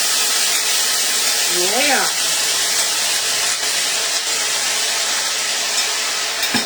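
Spicy ginger garlic pork sauce poured over food gives a loud, steady broadband sizzling hiss that continues throughout, with a short spoken interjection near the start.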